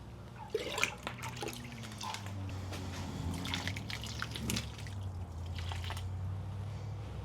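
Water pours from a quart jar into soil-blocking mix, a faint, steady trickle and soft gurgling with scattered drips and light handling knocks, heard close and quiet throughout.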